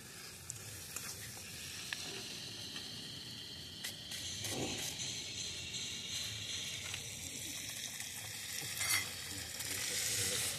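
Chicken curry for a picnic feast sizzles in a wok as the moisture cooks off, a continuous frying hiss with occasional stirring scrapes, moderately faint and without talk.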